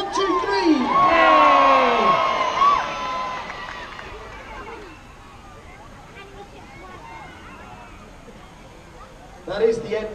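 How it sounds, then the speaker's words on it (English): A seaside crowd of spectators in Bridlington, children among them, cheer and shout loudly at first, then fade into murmuring and talk before a short burst of cheering at the end. "Come on, let's give her a cheer."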